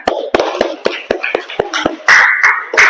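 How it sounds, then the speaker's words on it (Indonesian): Children's clapping game in an Indonesian classroom, a series of sharp rhythmic hand claps spaced about every quarter second, close and loud, with chanting voices rising over the last part. "Tepuk tangan."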